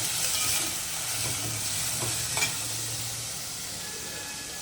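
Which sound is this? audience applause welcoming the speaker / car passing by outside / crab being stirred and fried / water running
crab being stirred and fried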